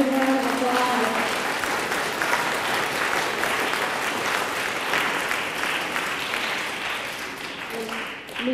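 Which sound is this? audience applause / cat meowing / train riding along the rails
audience applause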